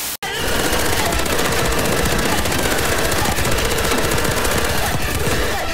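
Sustained automatic gunfire in Call of Duty Cold War, a loud, dense, continuous burst of rapid shots running almost the whole time after a brief gap at the start.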